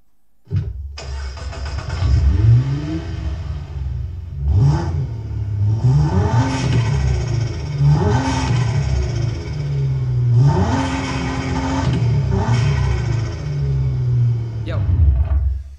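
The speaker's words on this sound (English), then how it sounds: "now we go to the highest power version of this engine, which is a single turbocharger, a bigger one, which sounds a bit different" A single-turbo six-cylinder engine, the highest-power version with a bigger turbocharger, starts up and revs repeatedly in rising and falling bursts, loud and close, with no talking over it.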